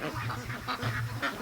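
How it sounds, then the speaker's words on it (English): Free-range ducks grazing outdoors, quacking in a quick, overlapping run of close calls with no talk. "We got ducks all over here."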